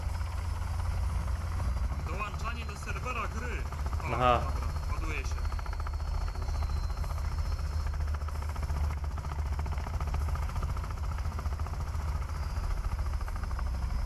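Helicopter in the video game Sons of the Forest: a steady, loud rotor and engine drone runs through the whole stretch while several people chat over it.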